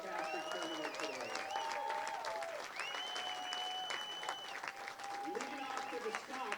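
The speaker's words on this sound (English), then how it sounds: "let's give both these teams a great round of applause for a fantastic tournament today" Fans applaud at a college baseball playoff game between Macalester and Bethel, a steady, dense wash of clapping running throughout, with a public-address voice and tonal whistling or calls riding on top.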